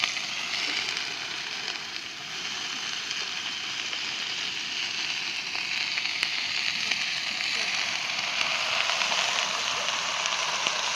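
Fenugreek leaves go into a wok of frying potato and chilli for a methi bhaji; a loud, continuous sizzle hisses throughout with small crackles and no talk.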